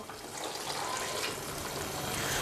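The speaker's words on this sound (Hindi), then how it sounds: "अब मैं इसके अंदर ऐड करूँगा 1 गिलास पानी को" A glass of water is poured into a pot of chicken cooking for chicken Manchurian, giving a close, continuous splashing pour that runs steadily for a couple of seconds.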